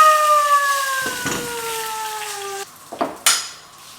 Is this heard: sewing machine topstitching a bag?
no